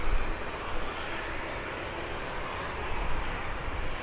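Ryanair airliner arriving from Alicante at Birmingham Airport, a steady broadband engine roar with rushing noise, moderately loud and fairly distant, holding level throughout with no voices.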